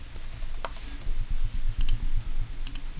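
Fingers typing on a computer keyboard, a quick run of close, crisp key clicks in uneven bursts with short pauses, over a low background hum.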